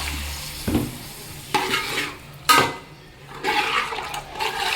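Water pours and splashes into a pot of Kerala-style mackerel curry in a few short bursts, with some sizzling and clattering between pours.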